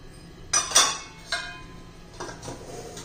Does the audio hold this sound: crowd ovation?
no